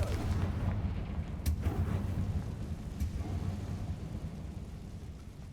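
Confringo explosion spell cast in a Harry Potter video game, a low rumbling boom that rolls on and slowly fades, with a couple of faint sharp cracks early on.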